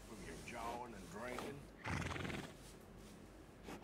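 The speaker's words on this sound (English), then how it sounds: "Oh, well, I found the Arabian horse." An Arabian horse in the Red Dead Redemption 2 video game whinnies with a wavering, rising and falling call, followed by a louder snort or burst of breath near the end, with faint hoof clops in the background.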